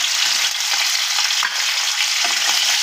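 Close, loud, continuous sizzling of turmeric-and-salt-rubbed snakehead (shol) fish frying in oil in a kadai, broken by a few faint clicks from turning the pieces.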